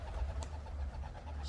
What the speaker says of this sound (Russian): Сотня белых, белых голубей